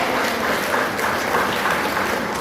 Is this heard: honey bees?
no